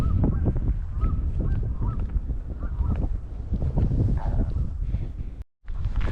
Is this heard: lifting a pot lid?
no